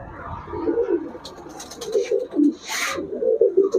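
Palla line pigeons cooing, a steady run of low, rolling coos repeated close up, with a brief rustling noise partway through.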